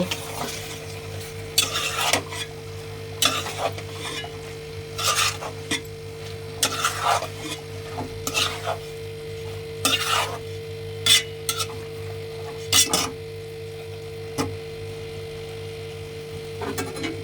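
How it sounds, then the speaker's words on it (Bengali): Malabar spinach cooked with prawns is stirred in a pan, bursts of spatula scraping and clatter recurring every second or two over a low sizzle and a steady background hum. "শাক আমার হয়ে এসছে, একটু এখন নাড়া দেব"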